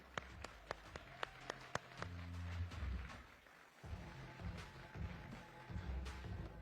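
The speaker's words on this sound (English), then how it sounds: "A huge round of applause for Abhishek Bachchan" Faint, scattered claps ring out in a handful of sharp, separate strikes at an awards show for Abhishek Bachchan, then give way to a low, sustained musical backdrop as the clapping thins out.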